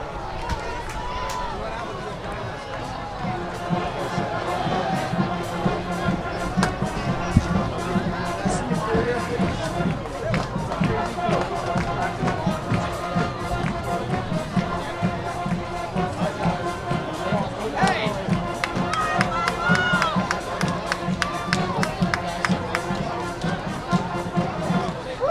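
Crowd of football fans at a high school game between Ludlowe and Fairfield Prep clapping and cheering after an impressive kick, a steady broad roar of applause and voices running throughout under a commentator's talk.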